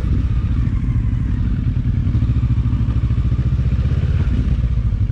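A motorcycle on a camping trip in the Grampians, riding with a steady, loud engine drone and rhythmic chugging under wind rush and some clatter, heard close and continuous with no talk.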